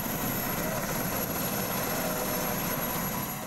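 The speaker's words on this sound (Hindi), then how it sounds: "रेस्क्यू ऑपरेशन में पाक आर्मी के 2 हेलीकॉप्टर्स हिस्सा ले रहे हैं।" Pakistan Army helicopter in a flood rescue operation, a loud steady rotor and engine roar filling the whole stretch without pause, close by, with no talk.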